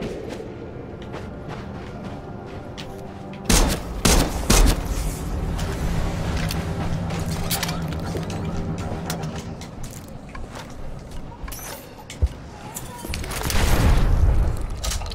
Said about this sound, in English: Danger close mortars, ready when you are.